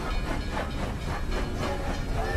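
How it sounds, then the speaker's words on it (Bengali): A train pulling away as an effect in a Bengali suspense radio drama, with a steady, dense rumble and rhythmic clatter under a hissing wash, loud and continuous, with no voices. "ট্রেন ছেড়ে দিল।"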